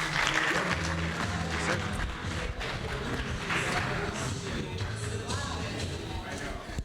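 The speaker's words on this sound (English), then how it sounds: "Let's have a round of applause and a warm welcome for Quentin." An audience at a business spotlight event claps to welcome founder Quentin Forgues to the stage, dense steady clapping with shuffling and room noise, voices faintly under it.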